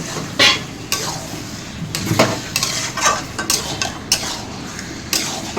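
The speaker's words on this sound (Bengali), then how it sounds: "এবার ভালো করে মশলার সাথে লোটে মাছটা মিশিয়ে নেব।" A spatula scrapes and clatters in a pan while whole bombay duck fish are stirred into a fried spice paste, with irregular metallic knocks over a soft sizzle.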